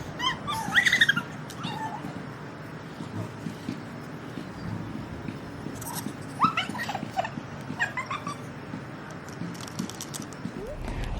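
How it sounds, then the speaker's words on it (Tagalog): A dog barks a few times in the distance, scattered across outdoor ambience with faint birdsong and occasional soft knocks. "tahol ng aso"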